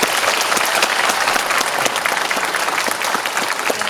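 Audience applause in a CGV Starium cinema hall in Yeongdeungpo during a Namhansanseong film talk event, a dense, loud, continuous clapping from a packed crowd with no gaps.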